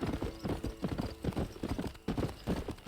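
Horse hooves clip-clop in rapid repeating beats in Red Dead Redemption, loud and close, with faint game ambience and someone briefly talking over them.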